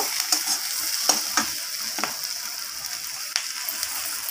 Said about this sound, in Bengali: এরপর মশলাগুলো আমি আলু, কড়াই, পেঁয়াজের সাথে নাড়িয়ে ছাড়িয়ে নেব।